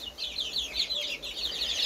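Brahma chickens, including a Brahma Dark, make soft, repeated clucking calls in a mixed poultry pen, the quiet calls coming in a steady rhythm a short distance away.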